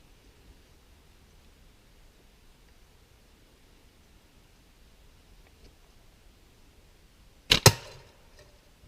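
A Daisy Powerline P51 slingshot fires a 3/8 inch steel ball bearing into a soda can, and the can answers with a sharp metallic crack and a short rattle after a long quiet stretch.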